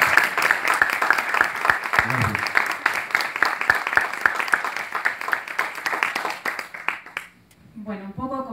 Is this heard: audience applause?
yes